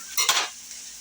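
Margarine sizzling in a frying pan over medium heat, with a burst of hiss and a brief stirring scrape near the start before it settles to a soft, steady crackle.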